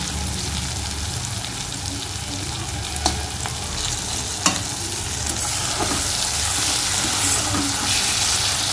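Ridge gourd fries in oil in a pan with a steady, close sizzle, broken by a few sharp clicks of stirring and no voices.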